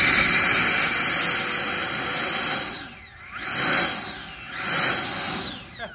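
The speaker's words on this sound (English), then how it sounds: "I'm going to put it in pilot-operated reverse. So now this is reverse control thrust" An E-flite Viper 90mm EDF jet taxis backwards on reverse thrust, its ducted fan whining loud and high, then dipping and surging twice as the throttle is eased and reapplied; no talk.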